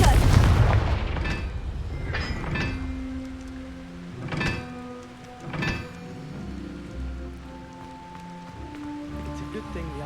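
A Confringo blasting spell in Hogwarts Legacy sets off a loud booming explosion, followed by several rumbling secondary blasts and crackling debris as a sustained tone lingers underneath.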